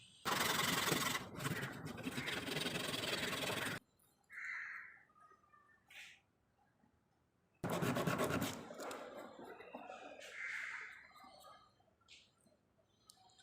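A wooden bass clef model is sanded by hand with P120-grit sandpaper, producing close, harsh scratching rubs in two long bursts separated by a quiet gap with a few softer strokes.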